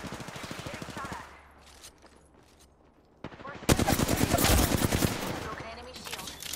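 Rapid automatic gunfire in Apex Legends Season 15, loud and close, a first stuttering burst fading out, then after a short lull a denser, heavier volley of overlapping shots.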